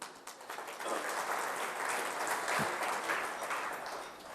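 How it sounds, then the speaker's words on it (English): Applause from an audience at a corporate event for electronics and technology companies, a dense steady wash of many hands clapping at moderate distance, sustained throughout without pause. "I would like to begin the session with a big round of applause"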